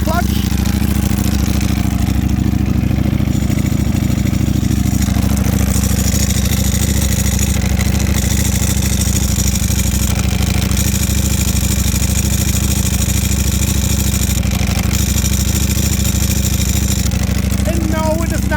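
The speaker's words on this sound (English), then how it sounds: "Everybody loves to hear, and that's the V4 R's dry clutch." Ducati Panigale V4 R idling with its dry clutch rattling: a continuous close, loud mechanical engine drone with a steady metallic chatter, running the whole time without pause.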